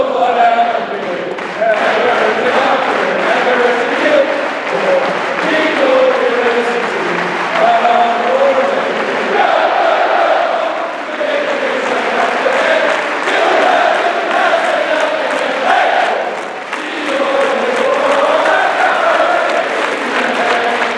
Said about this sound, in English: Giving a traditional War Eagle cheer just as her father, Dean Foy, would do it.